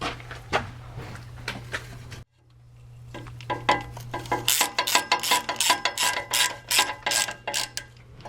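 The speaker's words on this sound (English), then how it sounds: "then we'll go around and just torque them in so they're good and snug" A ratchet wrench snugs the transmission pan bolts on a 1997 Land Rover Defender 90, giving close repeated clicking and metallic bursts; a short quiet gap falls early, then denser clicking runs to the end.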